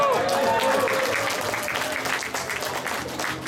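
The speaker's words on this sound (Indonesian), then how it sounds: "Sekali lagi tepuk tangan." A seated audience at an Indonesian talk applauds again, sustained dense clapping that slowly tapers, with a brief voice at the start and murmuring voices mixed in.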